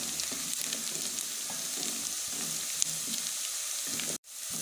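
Finely chopped onions fry in oil for a chana gravy, a steady close sizzle hissing without a break, with a brief dropout near the end before the crackle resumes.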